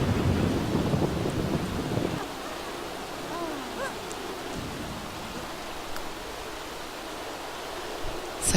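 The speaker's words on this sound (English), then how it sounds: "Bit of a storm." A storm with rain, starting with a heavy low thunder rumble over steady rainfall for about two seconds, then settling into continuous moderate rain noise with faint background sounds.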